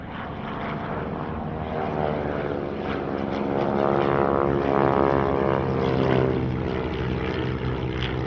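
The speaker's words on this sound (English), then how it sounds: "in the lead a product of New Zealand, the CT-4 Air Trainer" A New Zealand-built CT-4 Air Trainer propeller aircraft passing at an airshow in Australia makes a buzzing, harmonic engine drone that swells toward the middle and eases off, fairly close, with no speech.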